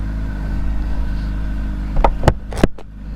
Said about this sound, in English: Sounds good. Even for a stock exhaust